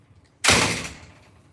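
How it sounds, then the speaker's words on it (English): A back door is pushed shut with one sharp, close slam that rings briefly and fades within about half a second, set against an otherwise quiet room. "Shut the back door."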